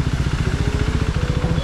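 A motorcycle engine runs in third gear on a Hyderabad road, a steady, close, fast-pulsing low thrum with no change in pace over a brief stretch.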